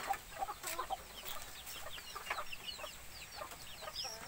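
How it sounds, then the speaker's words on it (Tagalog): Chickens clucking and chirping while being fed, a busy cluster of soft repeated calls at moderate distance over a light background hiss. "papatoka siya ng manok"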